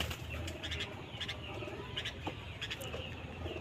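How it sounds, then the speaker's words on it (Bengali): Six male pigeons released, wings flapping in short bursts of clattering flutter, with soft cooing and faint birdsong around them at a moderate distance. "মোট 6টা নর কবুতর ছাড়ছি আমি"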